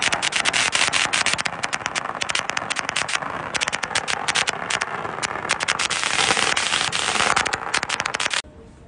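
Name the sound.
firecrackers exploding at Thai vow-fulfilment ceremony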